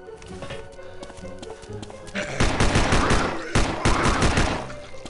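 Rapid bursts of gunfire from the zombie shooter game Land of the Dead, dense crackling volleys over a busy game background, growing louder in two heavy stretches toward the end.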